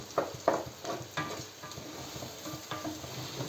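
Village-made sucuk sausage fries in a pan with a low, steady sizzle, broken by a series of sharp scraping clicks from stirring, close and fairly quiet, with no talking.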